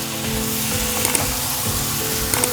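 Raw prawns sizzle steadily in a hot pan for an Andhra-style prawn curry, with a couple of soft scrapes as a spoon stirs them; the frying hiss stays close and even throughout.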